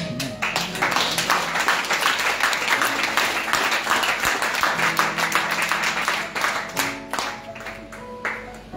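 A church congregation applauds during a deliverance sermon, a dense, sustained wash of many hands clapping that fades out toward the end, with a voice briefly audible underneath.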